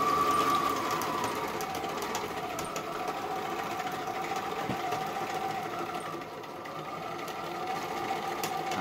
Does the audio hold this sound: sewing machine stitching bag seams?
yes